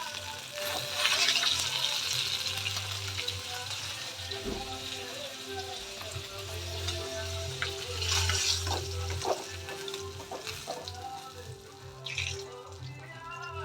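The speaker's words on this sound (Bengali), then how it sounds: "বাকি মাছগুলো আমি সেমভাবে ভেজে নেব।" Fish fry in a pan with a soft, steady sizzle that crackles and swells now and then, heard close and fairly quiet.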